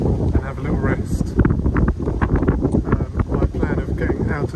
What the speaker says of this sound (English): It's still very windy here.